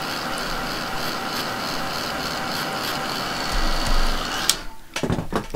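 A heat tool blows over freshly inked craft paper to dry it, making a steady whirring motor hum for several seconds that stops abruptly and is followed by a few handling clicks and knocks.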